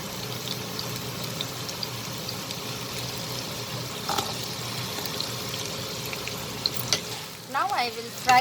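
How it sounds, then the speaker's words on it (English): Potatoes frying in oil in a pan over lowered flame give a continuous soft sizzle with faint stirring clinks near the end. "Now I will fry these potatoes till they are fried nicely, turns nice golden brown in color"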